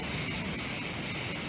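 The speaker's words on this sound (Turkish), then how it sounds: "Ağustos böcekleri burada var gücüyle çalışıyorlar." Cicadas drone loudly and continuously in a steady, piercing high-pitched buzz, heard outdoors among trees on a Turkish peninsula, with no talk over it.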